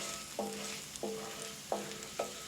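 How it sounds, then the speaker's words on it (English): Garlic frying in hot oil for a bread crumb pasta, with a steady soft sizzle and four distinct scraping stirs of a utensil against the pan at roughly even intervals, no talking. "As soon as that garlic hits the oil, stir that around for a few seconds."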